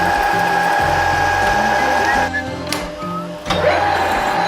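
A lathe turning a steel mandrel in a workshop, with a steady mechanical whir, faint tonal whine and some clicking during the cut, loud and close.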